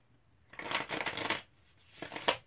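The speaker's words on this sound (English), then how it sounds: "I like my Riders because they're easy to shuffle." Rider-Waite tarot cards being shuffled by hand, two quick papery bursts of riffling close to the microphone, the first longer than the second, in an otherwise quiet room.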